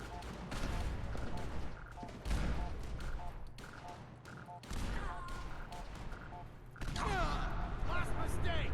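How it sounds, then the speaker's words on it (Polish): Gunfire in the video game Fallout 4: repeated sharp shots and bursts crackle through a busy combat scene, with voices talking over the fighting. "niby tu przed chwilą były strzały"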